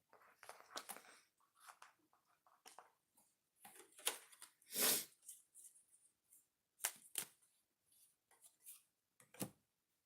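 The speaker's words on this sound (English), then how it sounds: "One more shuffle." A deck of oracle cards is shuffled by hand, quiet and close, in irregular bursts of crisp riffling and slapping clicks separated by brief silences.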